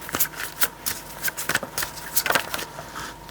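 Tarot cards being drawn, flipped and laid down by hand, a quick irregular run of close, crisp papery slaps and shuffles with no talking.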